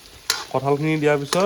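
Potatoes fry in a pan at home while jackfruit is being cooked, giving a soft steady sizzle that runs beneath a person talking.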